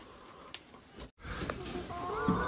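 Hens cluck softly in a homestead chicken run, faint and intermittent, with short clucks against a steady background and a brief dropout partway through, no speech.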